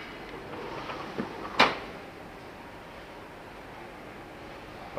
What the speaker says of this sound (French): Et on va rentrer le tiroir.